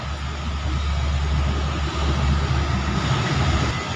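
A special train hauling ten flat wagons loaded with cast concrete crosses the Cigombong double-track railway bridge, giving a steady, loud, low rumble that holds without break, with no voices.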